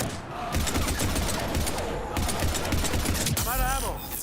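Rapid automatic gunfire bursts from a Mass Effect 3 combat scene, loud and continuous, with game effects and a brief electronic warble near the end layered over the shooting.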